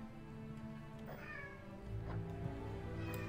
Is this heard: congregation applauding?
no